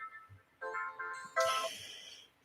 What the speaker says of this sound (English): what I'm going to do is just cut off the ringer here